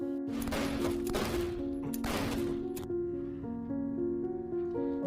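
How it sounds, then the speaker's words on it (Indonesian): Pistol shots fired in a film, several sharp loud cracks in quick bursts, then a sustained musical tone carrying on after the firing stops. "Namun Mickey justru menembak ayahnya sendiri hingga tewas."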